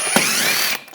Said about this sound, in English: use a 10mm socket,